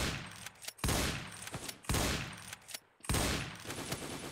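Bursts of automatic gunfire ring out in Counter-Strike, with several rapid volleys separated by short pauses, loud and sharp, with no voices over them.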